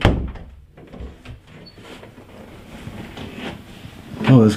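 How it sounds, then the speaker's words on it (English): A door in a house is shut once, a single loud thump near the end after a stretch of low rustling and room noise. "Shut the door."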